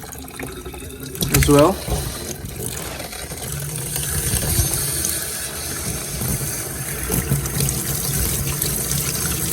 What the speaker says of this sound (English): All right, we got some hot water coming up.